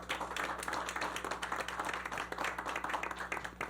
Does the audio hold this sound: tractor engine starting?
no